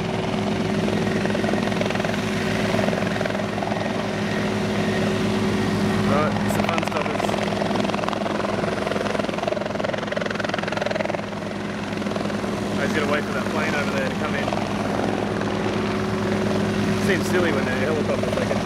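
An RACQ Careflight helicopter takes off nearby, its rotor and engine droning steadily and loudly throughout, with voices murmuring underneath.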